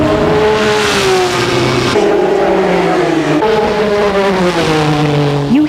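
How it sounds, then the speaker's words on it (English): An ASA stock race car's unrestricted V6 roars loud and close throughout, a steady deep rumble with a high-pitched chaser, its pitch rising and falling as the engine revs. "ASA is powered by a V6, and to really understand it, the first thing you've got to do is listen."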